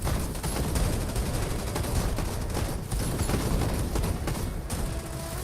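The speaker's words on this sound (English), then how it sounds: "Can you hear this gunfire?" Dense, loud gunfire from the Farlight 84 video game rattles continuously in rapid bursts with no pause.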